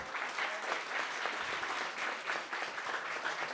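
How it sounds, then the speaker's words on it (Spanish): Audience applause at a book presentation on public contracting, greeting a panelist: sustained, even clapping from a crowd in a hall, moderately distant and continuous throughout. "la licenciada Jessica Susana García Cabrera, para quien pido un fuerte aplauso"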